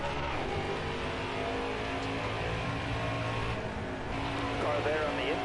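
Race trucks in a racing video game at Iowa drone with a steady, loud engine roar throughout, while a spotter's radio voice talks over the top.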